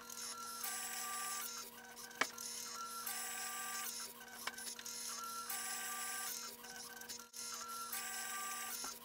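A physical Turing machine runs its counting program, repeated bursts of mechanical whirring and clicking in a regular stop-start rhythm, with a few sharp clacks between cycles, faint and close, with no speech.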